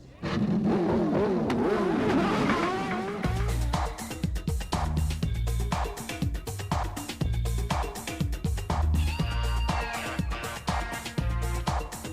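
Race car engines in the video game Nigel Mansell's IndyCar 94 roar and rev continuously at close range at the race start on Nazareth's one-mile oval, the pitch rising and falling as cars accelerate, loud and busy throughout.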